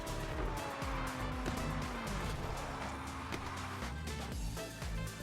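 Engine of a Porsche GT3 RS with all-wheel drive accelerating in the Car Parking Multiplayer 2 video game, a continuous loud revving drone with rising and falling pitch sweeps as gears change, with faint tire noise underneath.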